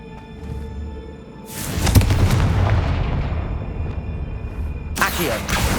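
A Confringo blast spell explodes in the game Hogwarts Legacy: a loud, booming burst erupts and rumbles on with a long decaying roar, followed by another sharp blast near the end, with no talk.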